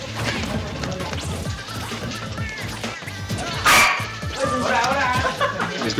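A dog barks a few times somewhere in a room, sharp and fairly close, cutting through loud, busy competitive game effects with hits and crashes.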